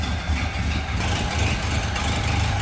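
A 1929 Ford Model A Roadster's inline four-cylinder engine idles with the hood open, a steady low rumble with an even, smooth pulse, close and unbroken.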